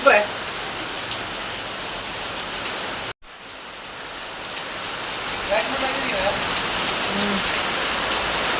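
Steady, dense rain falls on surfaces in a continuous hiss, with a momentary dropout partway through before the downpour resumes evenly.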